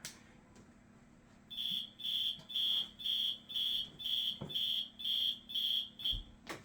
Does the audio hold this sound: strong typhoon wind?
no